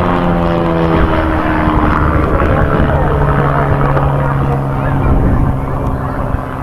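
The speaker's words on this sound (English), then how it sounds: "Really quite a usable little aircraft." A small propeller aircraft flying aerobatics at an airshow, its engine droning loud and steady with a buzzing propeller tone that shifts slightly as it maneuvers, with faint talk underneath.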